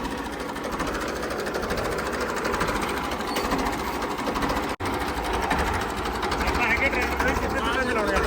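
A Ford 3600 tractor engine runs in a steady, fast mechanical chatter with a rattling knock, close and continuous apart from one brief dropout, with voices over it.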